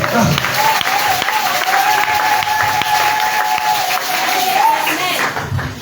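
A church congregation claps and cheers, producing a loud, dense wash of applause with voices rising through it, and a sustained sung or shouted tone running under the clapping for several seconds.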